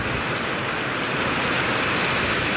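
Rain falling steadily during a storm, a dense, even hiss that stays constant for the whole couple of seconds, close and fairly loud, with no voices.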